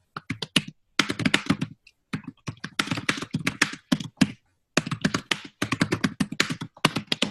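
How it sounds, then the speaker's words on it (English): Bursts of fast typing on a computer keyboard, close and crisp, with rapid clicks broken by short pauses, and no voices. "Let me type."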